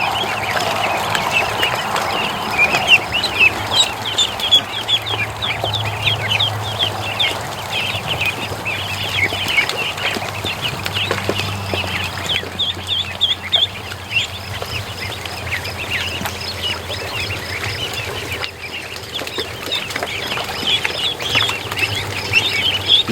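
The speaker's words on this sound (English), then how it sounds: "Little ducklings." A brood of Muscovy ducklings peeping constantly in a close, busy chorus of high chirps, continuous and fairly loud with no talk over it.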